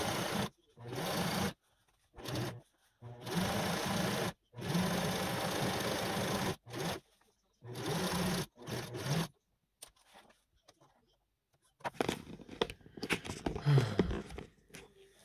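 A sewing machine stitches fabric for a movie-style Hogwarts robe in a string of loud, close, whirring bursts separated by short pauses, followed by quieter rustling and handling of the cloth.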